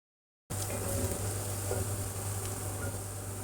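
After a brief silence, chopped onions fry to golden brown in a pan for chicken biryani, giving a steady, even sizzling hiss that holds at moderate loudness throughout.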